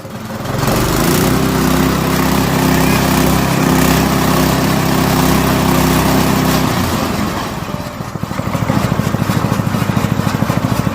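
A petrol engine on a chaff cutter (toka) runs loud and close in a steady drone, then its pitch drops and it settles into a rougher, pulsing idle near the end.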